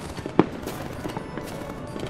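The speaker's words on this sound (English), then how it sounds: "He brought out more fireworks." Fireworks going off in a video game set in a small neighborhood, one sharp near burst followed by scattered softer pops and crackles over a busy game background.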